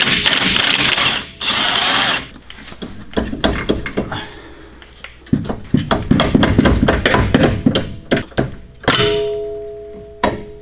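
Work under a widebody Scion FR-S being lowered onto BC Racing coilovers, as a 14mm tool loosens the sway bar bolt and nut: several bursts of power-tool whirring and clunky metal thunks and ratcheting, close and fairly loud, with no talking.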